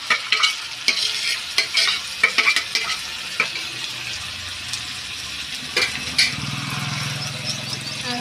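Tomato and coriander paste fries in ghee for a chicken curry while being stirred, with loud close sizzling and repeated spoon scrapes against the pan and a lower frying hiss near the end.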